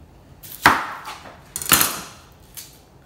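A few separate knife chops through onion on a cutting board, with three sharp hits spaced about a second apart while cooking for mole, close and fairly quiet with no talking.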